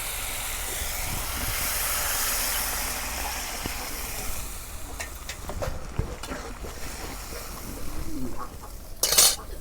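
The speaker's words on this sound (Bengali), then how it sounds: "এখন আমি পানি দিয়ে দেব।" Water poured into a pot of tomato and pangas fish curry, a steady rushing hiss at the start that fades, then clinks and scrapes of utensils against the pot.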